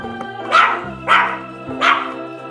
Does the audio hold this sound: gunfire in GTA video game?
no